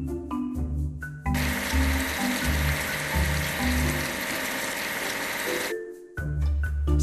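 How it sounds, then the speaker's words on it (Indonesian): A crane truck is sprayed clean in a kids' construction game, a steady loud hissing wash of water running for several seconds over light background music. "Ayo cuci derek ini."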